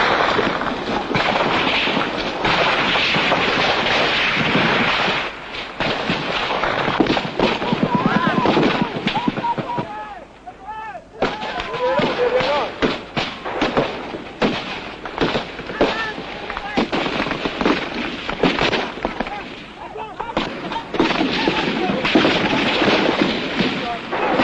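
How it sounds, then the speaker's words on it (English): Rifle and light machine gun fire crackles almost without pause in combat during the Nigerian Civil War, with dense bursts close overhead and a voice talking over it. "the rifle fire, light machine gun fire sounds extremely close overhead"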